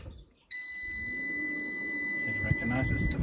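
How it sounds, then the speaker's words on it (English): An off-grid power inverter switched on with its battery connected gives a sustained, piercing electronic beep that starts abruptly and holds steady, with quiet room noise and a voice underneath. "Yeah, it beeps when you turn it on."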